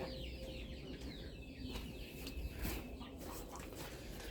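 Hens cluck softly and intermittently close by, with scattered bird calls over a low, steady background.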